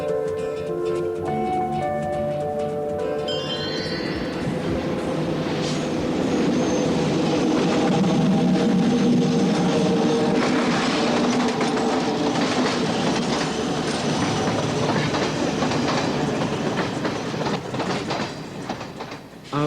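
Passenger train slowing into Vallorbe station on the French–Swiss border, a loud steady rumble with rail clatter and faint wheel squeal close by throughout, and no talk over it.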